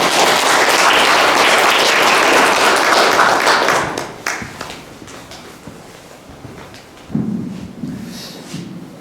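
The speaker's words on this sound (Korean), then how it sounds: "다시 한번 큰 박수로 발제를 시작하도록 하겠습니다." An audience at a Buddhist discussion forum in Seoul gives a big round of applause, loud dense clapping for about four seconds that drops off into scattered claps, shuffling and a few faint sounds.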